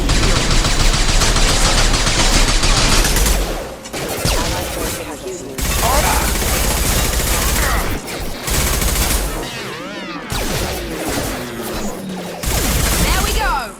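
Heavy gunfire in Mass Effect 2 combat, dense rapid bursts of automatic weapons with brief pauses between volleys, loud and close, with game voices mixed in.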